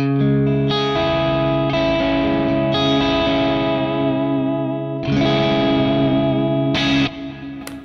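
A bright, wide-sounding electric guitar rings out sustained chords, with fresh strums every second or so and a sparkling, open high end.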